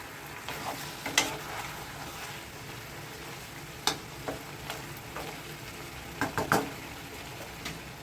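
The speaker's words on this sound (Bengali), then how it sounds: "ঢাকনাটা তুলে নিচ্ছি বন্ধুরা এবার এটাকে আমি একটু হালকা করে নেড়ে দিচ্ছি" A chicken and vegetable curry is gently stirred in a pan after the lid comes off: faint, sparse scrapes and clicks of the spoon over a quiet, low simmering hiss.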